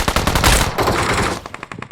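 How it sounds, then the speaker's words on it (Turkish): Loud, close automatic gunfire in the mobile shooter PUBG Mobile during a ranked match, rapid repeated shots in sustained bursts that break into a quicker staccato near the end. "Zıpladım zıpladım vurdum"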